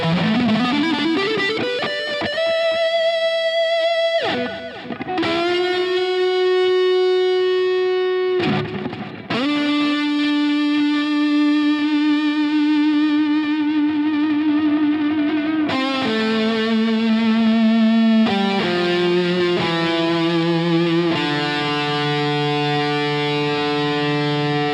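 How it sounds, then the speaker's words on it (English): A Gibson Custom Bonabyrd Les Paul electric guitar played through distortion, sustained overdriven notes and chords ringing out one after another, thick and loud with no talking. "this is by far the best Les Paul I've ever heard"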